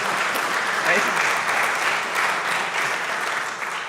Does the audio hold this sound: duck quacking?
no